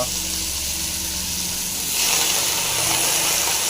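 Kuppaimeni leaves, coriander and curry leaves frying in a pan, giving a steady close sizzle and hiss that swells louder partway through, with a low background hum.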